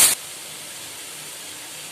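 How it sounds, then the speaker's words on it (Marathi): A pressure cooker whistle gives a short, loud, sharp hiss of released steam, then a fainter, steady hiss continues. "आता कुकरची शिट्टी होणार आहे,"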